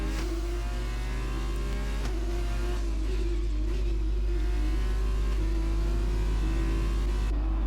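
A Formula 2 race car completing a lap at the Abu Dhabi Grand Prix, its engine screaming at a steady high pitch close by, with brief dips and shifts in tone as it accelerates, loud and continuous throughout.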